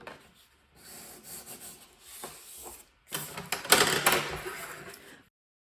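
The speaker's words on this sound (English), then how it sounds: "So I have my 3 flap pieces here, and I'm going to fold them." Thick cardstock flaps for a journal folder are folded and creased by hand, giving soft rubbing and crinkling scrapes in two bursts, the second louder and more textured.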